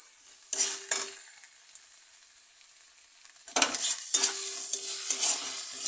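Spices with turmeric and salt sauté in a pan, a soft sizzle beneath two bursts of scraping and stirring, one short stroke early on and a longer run of spoon strokes later.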